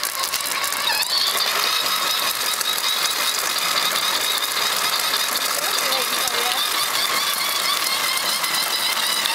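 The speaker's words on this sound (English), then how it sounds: "You're riding your own motorcycle." The small engine of a child's first motorcycle runs with a steady buzzing drone and mechanical rattle, heard close with adults talking excitedly over it.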